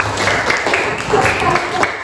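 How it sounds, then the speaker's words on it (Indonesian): An audience claps for everyone at a school presentation, a steady smattering of applause with scattered individual claps, while a voice talks over it. "Tepuk tangan buat kita semua"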